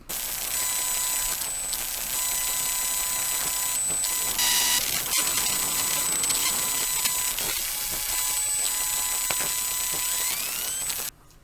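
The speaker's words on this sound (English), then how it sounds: "So I wanted to use this sound of a laptop circuit." Buzzing, whining electronic tones and crackles from a laptop circuit, with steady high pitched hums and a brief louder burst of static midway.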